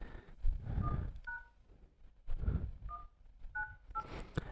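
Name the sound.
phone dialer keypad tones on Android AEX ROM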